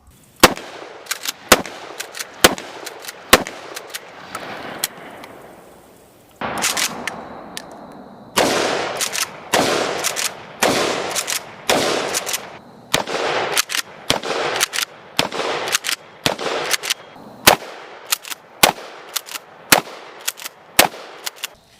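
Mossberg 590 Shockwave pump shotgun with a 14-inch barrel firing repeatedly at an outdoor range, sharp loud blasts with short gaps, then a faster string of shots near the end.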